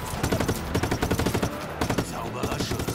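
Rapid automatic gunfire in the open-world action game Just Cause 3, loud and close, with dense repeated shots in sustained bursts and a brief pause partway through.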